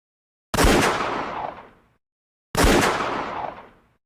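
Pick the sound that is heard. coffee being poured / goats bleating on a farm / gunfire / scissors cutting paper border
gunfire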